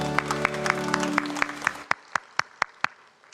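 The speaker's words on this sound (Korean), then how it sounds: "우리 주님께 영광의 박수 올리겠습니다." A church congregation at a Sunday service claps together in a steady rhythm, then the applause thins to a few sharp, evenly spaced claps before fading.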